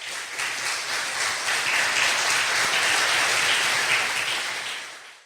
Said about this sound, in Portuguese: Aplausos para Jesus, irmão.